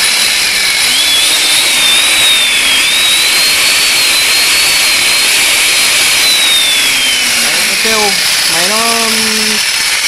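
A cheap wood-cutting chainsaw runs loud and close as a continuous high whine whose pitch wavers slightly, with someone talking over it toward the end.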